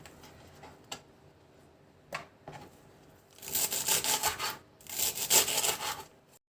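A knife chops vegetables, including peppers, on a cutting board, starting with a few isolated taps and then moving into two dense bursts of rapid, close, scraping chops, with no talking.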